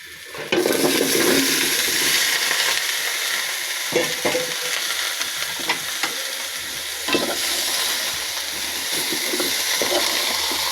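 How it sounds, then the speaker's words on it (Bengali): Potatoes and flat beans fry and sizzle steadily in a hot pan with onion spice paste, with intermittent stirring scrapes and clatter continuing throughout, no talking. "শিম ও আলু অল্প করে নাড়াচাড়া করে নেব।"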